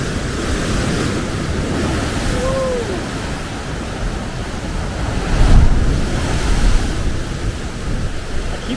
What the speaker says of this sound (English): Ooh, some big waves coming.